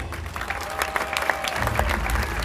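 Spectators clap in the stands of a staged Olympic games show at Olympia, a moderate patter of scattered hands over low crowd rumble.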